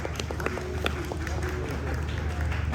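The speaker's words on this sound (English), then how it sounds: "Give a round of applause to team number 6." An audience at a startup pitch event claps for a team, a steady patter of hand claps from a modest crowd running under a speaking voice.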